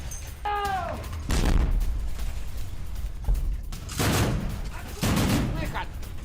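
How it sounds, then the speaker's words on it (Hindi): Heavy gunfire in war footage from Donetsk during the Russia-Ukraine war, a series of loud sharp bursts and rumbling reports, with a whistling sound early on. "डोनेस्क में रूस की फौज की जबरदस्त गोलीबारी"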